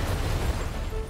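Explosion in the video game Far Cry 6, a dense, loud rumbling roar that fills the whole moment with continuous crackling low-end energy, with no speech over it.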